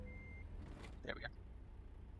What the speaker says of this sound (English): Connecting the trailer.